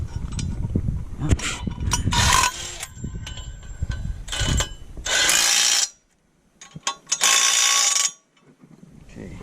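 Engine mount bolts on a John Deere 6620 combine being tightened with a ratchet, bursts of close clicking pawl strokes with pauses between, amid shop clatter.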